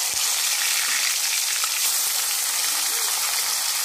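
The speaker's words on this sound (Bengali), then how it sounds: "এই ফ্যাসা মাছগুলো প্রথমে ভাজিয়ে নেবো ভালো করে।" Loud, steady sizzling of phasa fish frying in hot mustard oil, a dense crackling hiss with no talking.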